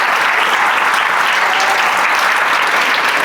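A church congregation breaks into loud, dense applause, a steady wash of many hands clapping close by for the whole stretch, with no voices standing out.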